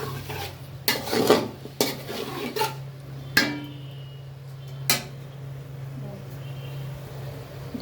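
A metal spoon stirs chicken biryani in a pot at home, with scattered sharp clanks and scrapes against the rim amid quiet sizzling, the strikes spaced irregularly and fading into calmer stirring.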